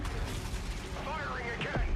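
Spaceship weapons firing in the Star Citizen video game, a dense rumbling barrage with booming low end and sweeping synthetic tones, continuous and fairly loud.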